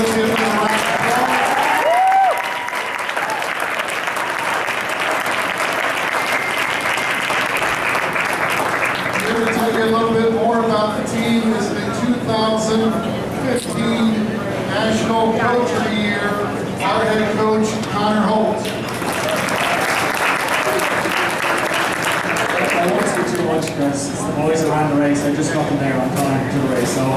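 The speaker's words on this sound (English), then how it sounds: "Let's give them a round of applause." Audience applause for a university's national champion men's cross country team at a celebration, sustained dense clapping lasting throughout with crowd noise, a voice speaking briefly over it near the start.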